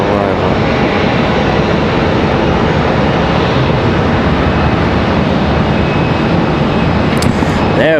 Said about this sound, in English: They've got the Delta E175 sliding back here.